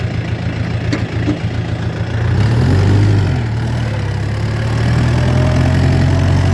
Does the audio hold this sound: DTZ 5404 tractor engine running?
yes